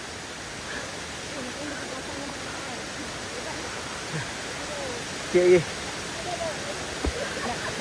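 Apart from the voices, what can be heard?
Sungai Kanching waterfall in Rawang, Selangor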